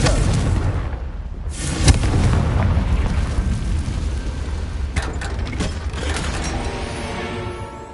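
A Confringo blasting spell bursts in Hogwarts Legacy on PS5, with a loud rumbling explosion and a sharp crack near the start, then lingering debris and rumble fading over several seconds.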